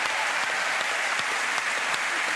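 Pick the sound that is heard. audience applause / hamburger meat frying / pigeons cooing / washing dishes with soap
audience applause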